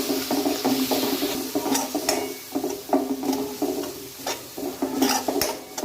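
Spice masala stirred into fried onions in a pan on a lowered flame gives a steady sizzle, with repeated scraping strokes and occasional sharp clinks of the spoon against the metal.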